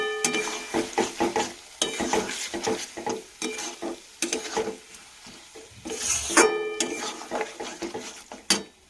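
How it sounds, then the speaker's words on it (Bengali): Chili chicken made with chicken liver and gizzard is stirred in tomato sauce in a pan. Repeated rhythmic scraping strokes with loud spoon-on-metal clatter ring out close and clear over a soft sizzle. "এবার আমি অল্প করে নাড়াচাড়া করে নেব"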